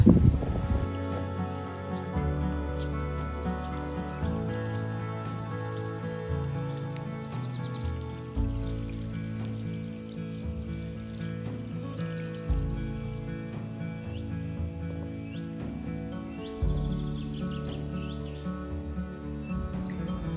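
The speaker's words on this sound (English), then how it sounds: "I'm just gonna lay here until the rain passes" Steady rain pattering on surfaces during a camping trip, with scattered drips, a constant soft wash of sound with faint bird chirps in the background.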